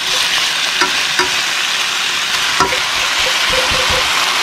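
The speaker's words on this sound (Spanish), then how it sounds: "le voy a hacer a todos los pedazos de steak. Y vamos a esperar que se nos cocine" Pieces of steak cooking in a frying pan give a loud, continuous sizzle with a few sharp pops and scrapes, close up and without voices.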